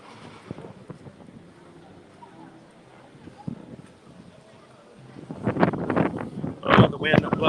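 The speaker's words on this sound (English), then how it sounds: "Oh, the wind blew my mask away" Wind gusts buffet a microphone outdoors at the Disney Skyliner resort area, low rumbling bursts that swell louder toward the end, with people talking throughout.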